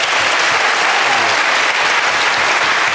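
A studio audience at a radio comedy panel show gives a round of applause for the runners-up, a loud, steady, unbroken burst of many hands clapping together from start to finish.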